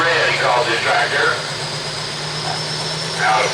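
A pulling tractor rumbles at idle in the 9,000 lb pro farm class at an outdoor tractor pull in Bowling Green, Missouri, a steady mid-pitched engine drone under an announcer talking over a loudspeaker.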